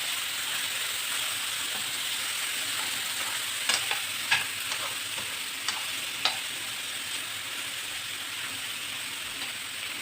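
Chunks of meat for pot kebab sizzle steadily in a hot pot, a constant close frying hiss broken by a few sharp scrapes and clinks of a spoon stirring.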